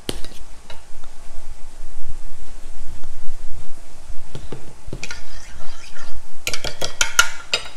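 Milk seasoned with garlic powder and black pepper is stirred in a bowl, with light scraping and clinking of a utensil against the dish, the knocks growing sharper and quicker toward the end.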